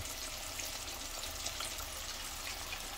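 Buffalo fish fries in hot oil, giving a soft, continuous sizzling hiss with fine bubbling that stays steady and fairly quiet throughout.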